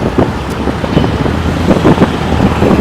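Strong gusting wind at the Broadway and Fifth Avenue intersection by Madison Square Park in New York, a dense rushing roar mixed with steady street traffic, with no voices.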